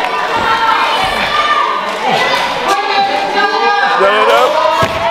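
Crowd at an in-ring wrestling event cheering and shouting, lively overlapping voices with bursts and thumps from the ring, loud and continuous, with a commentator talking over it.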